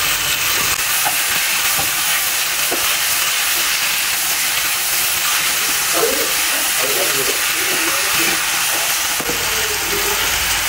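Tomatoes go into a pan of well-browned onions and released oil, giving a loud, continuous hissing sizzle close by with soft stirring and a little faint background talk.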